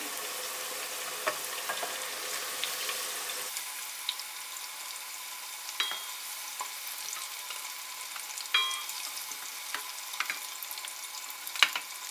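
Continuous soft sizzling of minced meat frying in a pan, with occasional light scrapes and clinks of stirring.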